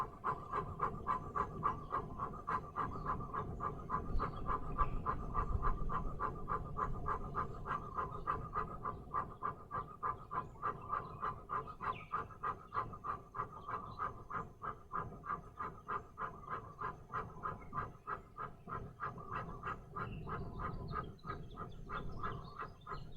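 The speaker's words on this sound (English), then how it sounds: "then breath of fire through the mouth" A person does breath of fire during a hip-opening yoga session, rapid rhythmic panting breaths through the mouth, steady and close, sustained for over twenty seconds without talking.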